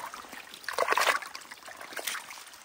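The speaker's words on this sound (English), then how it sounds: "maybe the water coming out of it will be cleaner" Water trickles and splashes out of a culvert in the woods, a faint steady dribble with a couple of brief splashy surges, no voices.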